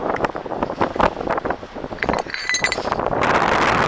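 A piece of pottery clinks on a windy beach, a few short bright taps scattered over steady gusting wind noise, close to the microphone with no talk.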